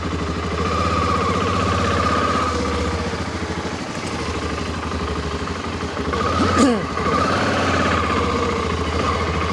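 A BMW F650GS Dakar motorcycle with 38,000 km on it, its single engine idling steadily and fairly close, with a brief louder burst partway through and a faint voice underneath.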